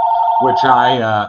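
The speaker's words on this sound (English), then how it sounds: "Please excuse the phone." Office telephone ringing with a steady electronic warble that runs throughout, while a person talks over it in the second half.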